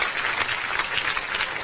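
An audience applauds at a regional industry conclave in Gwalior, a brief burst of dense, even clapping from many hands at moderate loudness.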